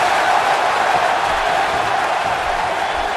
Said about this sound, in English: This crowd in St. Paul is behind Rock Lee here.